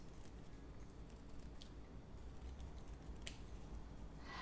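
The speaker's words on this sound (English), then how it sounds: "these are just regular embroidery scissors" Regular embroidery scissors snip cross stitch fabric, a few faint, brief cuts scattered over a quiet background with no speech.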